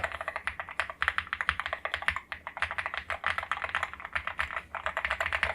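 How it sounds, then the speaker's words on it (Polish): Typing on a NUBI N keyboard with magnetic switches and well-stabilized keys: a close, rapid, uneven patter of soft, muted keystroke clicks that runs without a break. "Tak więc jest taki delikatny stuk, ale można śmiało stwierdzić, że bardzo przyjemny dla ucha."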